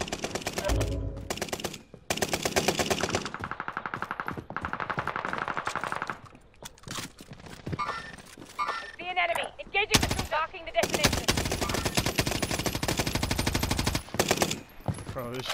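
Rapid automatic gunfire from the Call of Duty Warzone video game rattles through most of the stretch in loud sustained bursts, with brief gaps between volleys and game sound effects mixed in.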